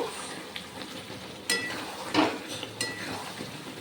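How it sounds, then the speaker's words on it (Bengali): Fried spices are tipped into drumstick pickle cooking in a pan and stirred, giving a soft, continuous sizzle broken by a few scraping strokes and light clinks of the spoon. "এবারে আমি মশলা অ্যাড করব যেই মশলা ভেজে রেখেছিলাম সেই মশলা সবটা মশলাই আমি অ্যাড করব"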